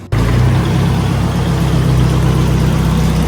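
A Nissan 240SX engine idles steadily and loudly up close after a brief start, a low continuous rumble with an even pulse and no talking over it.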